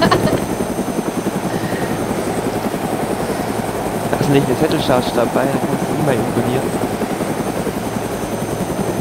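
A helicopter in a video game keeps up a steady rotor thrum throughout, beneath people talking.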